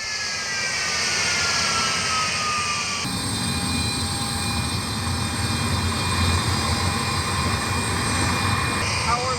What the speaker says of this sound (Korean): 수리온을 운반해온 안토노프는 세계에서 가장 큰 화물기다